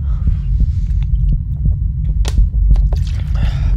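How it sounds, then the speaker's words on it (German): In the indie horror video game Pizza Delivery, a player's heartbeat thumps as a low, rhythmic throb over a dull hum, loud and close, with small clicks and no speech. "Wait till your heartbeat comes down."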